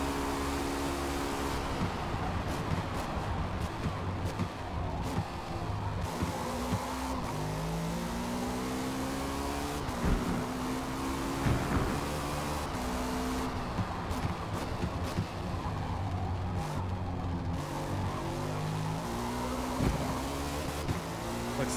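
A race car engine in Forza Motorsport at Daytona screams steadily close by, its pitch climbing and dropping through repeated gear changes, with tire and wind noise underneath and no voices.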